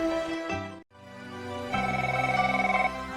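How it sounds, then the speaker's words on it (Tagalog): A telephone rings in a household scene from a drama, a rapid trilling electronic bell pulsing steadily for about a second after a brief gap, fairly loud and close, with no talk over it. "Ada umawag. Inakpay sumbatan ti telepono."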